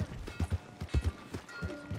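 Horse hooves clip-clop at a steady riding rhythm in Red Dead Redemption 2, moderately close, with a soft voice passing lightly underneath.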